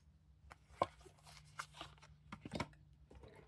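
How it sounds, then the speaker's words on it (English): A deck of small cards being shuffled by hand, heard as a quiet run of soft, irregular papery clicks and flutters with a few sharper snaps, close up, with no talk. "These little cards shuffle really well"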